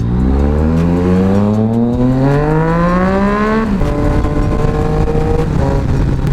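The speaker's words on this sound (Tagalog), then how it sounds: "Tulin na itong motor na to." A Yamaha Tracer 900 motorcycle engine revs up hard while riding, pitch climbing steadily through a long pull before a shift, then droning on loud and close with wind noise.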